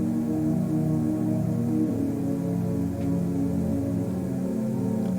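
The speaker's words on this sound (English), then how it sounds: "I have this piano pad," A synth piano pad sustains a warm, thick chord in the low-mid register, smooth and continuous with slight movement in the harmonics, played alone without voices.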